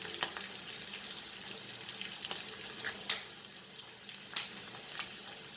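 Green chilies sizzling in hot oil for curd kadhi made with roasted peanuts and chana flour, a steady soft crackle broken by several sharper pops, close and moderate in level with no voices.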